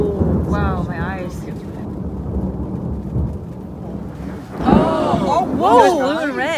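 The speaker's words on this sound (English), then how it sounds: "And it rumbles through. I see. It's like stereo thunder." Thunder rolls through a thunderstorm as a low, sustained rumble with rain underneath, and excited voices talk over it throughout.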